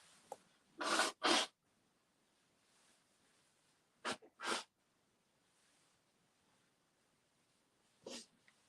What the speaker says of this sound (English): I haven't sneezed all morning, and I go live, and all of a sudden, this is happening